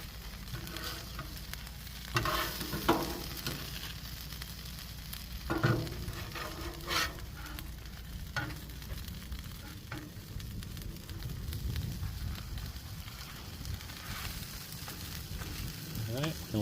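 A cheese quesadilla frying on a Blackstone griddle gives a continuous soft sizzle, close and steady, with a few brief clicks and scrapes from a utensil on the flat-top now and then.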